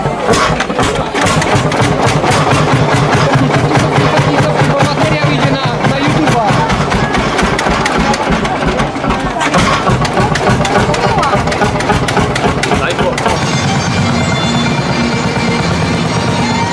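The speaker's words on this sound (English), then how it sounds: "Ursus C45, a 1947 copy of the Lanz Bulldog, start up using its steering wheel to manually swing the flywheel" A 1947 Ursus C45 tractor, a Polish copy of the Lanz Bulldog, fires up after its flywheel is swung by hand, settling into a loud, rapid, thumping single-cylinder beat, while a voice talks over it.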